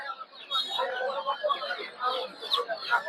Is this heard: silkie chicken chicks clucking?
yes